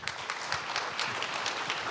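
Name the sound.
audience applause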